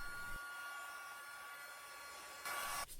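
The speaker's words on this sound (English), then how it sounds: "I'm using my heat gun to dry these guys off." Heat gun blowing hot air over freshly painted gingerbread craft decorations, a steady close whirring hiss with a louder burst near the end.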